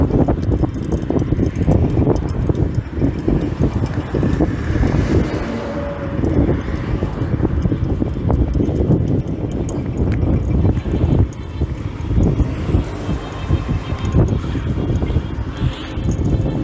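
Wind buffets a microphone outdoors while someone walks around playing Pokémon GO, a steady low rumble filling the whole stretch with gusty swells and no clear pauses.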